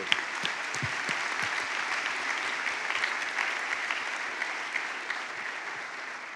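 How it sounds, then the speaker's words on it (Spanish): A church congregation claps steadily and loudly together during a Spanish-language service, a dense even wash of applause with a few sharper individual claps standing out, sustained for several seconds without speech. "Un aplauso al Señor."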